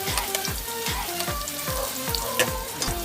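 Onions sizzle steadily in a hot pan for sotanghon guisado, a loud continuous frying hiss broken by a regular series of spatula scrapes and stirring strokes.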